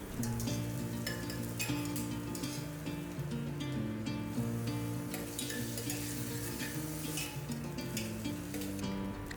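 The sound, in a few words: onions, garlic and spices sauteing in ghee in a cooker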